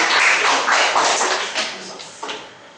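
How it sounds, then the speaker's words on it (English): Applause from a small audience at a speakers' club meeting, a dense burst of clapping that is loud at first and then thins and fades over a few seconds. "Here's a round of applause."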